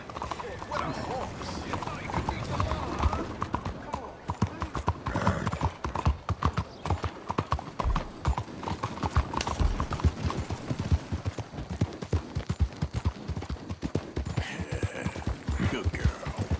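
Rapid hoofbeats of a horse in Red Dead Redemption 2 clatter continuously under busy game sounds, with a voice speaking over them and a brief horse whinny.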